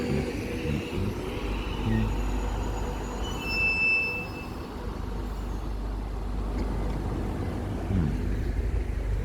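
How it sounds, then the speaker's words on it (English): A passenger train rumbles by at a distance in Mount Waverley, Victoria, Australia, a low steady roar with a brief high squeal of wheels partway through, no one talking. "That's our Australian train."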